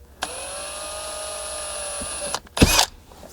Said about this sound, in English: drill a small pilot hole at each of these locations